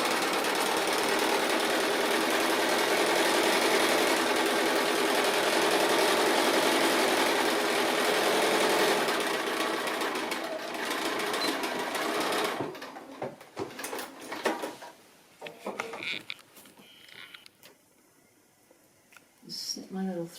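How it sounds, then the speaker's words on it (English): A sewing machine runs steadily, stitching through several fabric layers along the top edge of a zippered pouch, a loud continuous whir that stops partway, followed by quieter handling sounds. "I'm just going to stitch right through the whole lot, about 1/4 inch in from that top edge"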